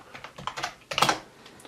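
Rapid clacking keystrokes on a TTesports Commander gaming keyboard, an irregular burst of close, crisp key presses with no voice.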